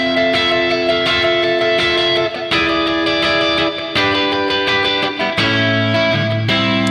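The short guitar interlude from a song plays as a band recording, with ringing chords struck in a steady pulse over bass and drums, loud and continuous with brief dips between phrases.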